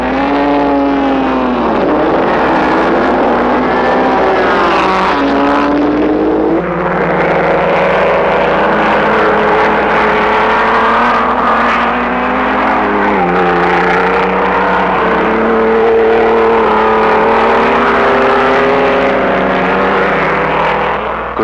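1930s Grand Prix racing cars, Mercedes and Alfa Romeo, at the Monaco Grand Prix: loud, high-revving engines whine and rise and fall in pitch as cars accelerate, shift and pass one after another, without pause.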